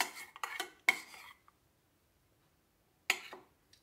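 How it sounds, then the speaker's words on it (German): A whisk clinks and scrapes against a bowl while stirring cream for a no-bake peach cookie torte, a few quick bursts of metallic tapping followed by a long pause and one more short flurry. "Die muss weiter gerührt werden und währenddessen die Creme rührt, oder besser gesagt der Schneebesen rührt"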